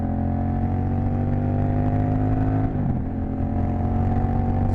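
A Honda Rebel 1100 motorcycle, a rental bike, cruises in fourth gear at about 70 mph, its engine holding a loud, steady drone mixed with wind rush, with a brief dip in tone near the end.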